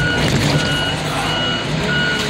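A truck reverses with loud, steady, evenly spaced reversing beeps over its engine rumble, close by, with no talking.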